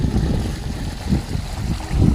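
River water flowing outdoors on a farm, a steady low rushing wash with no clear pauses, close and fairly loud throughout.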